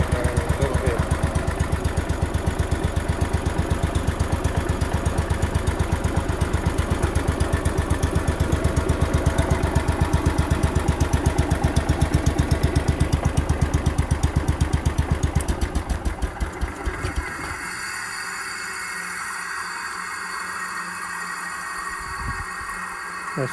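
A Kohler K241 single-cylinder engine runs steadily with the PTO engaged and no belt attached, a loud, close, rapid mechanical chatter for about seventeen seconds, then drops to a quieter, smoother idle.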